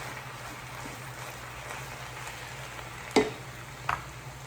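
Fresh spinach wilting in a frying pan, a low steady sizzle with faint stirring scrapes and two brief utensil clicks near the end.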